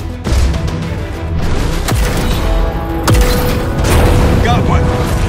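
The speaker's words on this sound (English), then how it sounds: "Returning fire." Gunfire and explosions in the mech combat game Phantom Brigade, with a dense, loud barrage of booms and sharp shots, several distinct cracks standing out over a continuous battle rumble.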